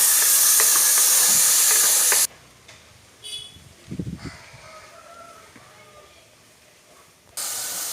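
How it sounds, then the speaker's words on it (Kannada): Tomatoes fry in a pan for pomfret curry, a loud close hissing sizzle at the start that drops away to quiet scraping and soft handling, then the hiss returns at the end. "ಈಗ ಟೊಮೆಟೊ ಹಾಕುವ. ಚೆನ್ನಾಗಿ ಫ್ರೈ ಮಾಡುವ."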